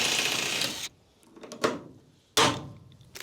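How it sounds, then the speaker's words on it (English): A rivet is set into a composite roof panel on a 1975 Viscount caravan during renovation: two sharp, loud mechanical bursts with short clicks between, close by, with no talk. "let's get a rivet in and start getting it down"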